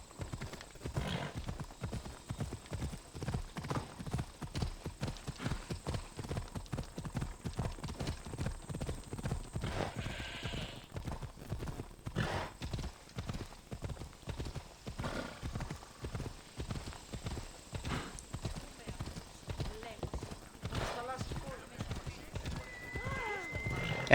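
A horse clip-clops along in Assassin's Creed Odyssey, its hooves beating a quick, steady, close rhythm for the whole stretch, with a brief whinny and some faint game sounds alongside.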